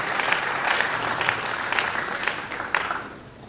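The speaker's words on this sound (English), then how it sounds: "Please, a round of applause to the reviewer." An audience at an academic science lecture breaks into steady applause for a book reviewer, a brief burst of clapping that tapers off near the end.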